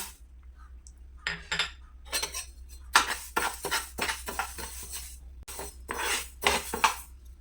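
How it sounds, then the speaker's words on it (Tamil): Moong dal is dry-roasted in a pan and stirred with a metal spoon, giving intermittent rattling scrapes and clinks in quiet bursts, close by. "இப்போ பாசிப்பருப்பு போட்டு பொன்னேரமாக வறுத்துக்கலாம்"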